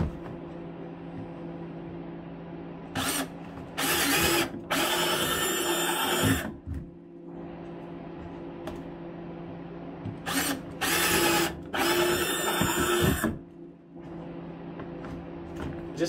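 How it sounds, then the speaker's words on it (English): A power drill bores two holes into the slanted side of a plastic bucket. The drill whines loudly in two clusters of short and longer bursts, with a steady hum between them. "I like to drill on these buckets in this slanted piece right here, just two holes somewhere towards the middle"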